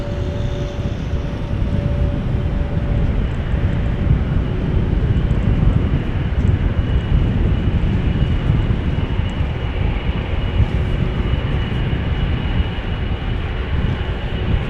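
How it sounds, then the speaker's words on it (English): A United Boeing 777-200 bound for Houston at Amsterdam Schiphol Airport, heard as a steady, loud jet engine roar that holds evenly throughout with no talk over it. "This is United flight 21. 777-200 to Houston."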